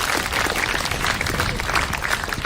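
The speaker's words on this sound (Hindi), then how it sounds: "पहले तो इनके लिए जोरदार ताली बजाओ जो इस बात को स्वीकार करते हैं।" Students at a live Children's Day celebration clapping, a dense, steady burst of applause from a sizeable audience that runs evenly through the short stretch with no talk over it.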